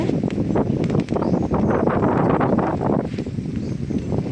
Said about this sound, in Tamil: காற்று பயங்கரமாக அடிச்சிட்ருக்கு.